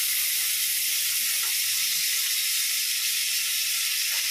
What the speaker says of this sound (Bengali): পটলটাকে একটু ভালো করে ভাজি